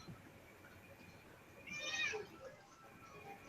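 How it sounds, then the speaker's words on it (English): A single indoor cat meow rises clearly out of a quiet room, one short, rising-and-falling cry near the middle, faint and close. "I found a cat."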